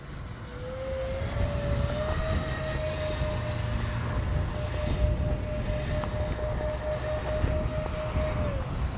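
A Freewing 64mm A-10 RC jet makes a low pass with its gear down, its ducted-fan whine holding loud and steady with a slight pitch shift as it passes, over gusty outdoor background noise.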